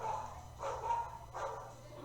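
Several dogs bark in short bursts during a lightning storm, three rough barking pulses spaced across the moment at moderate distance, with storm noise and a low steady rumble underneath.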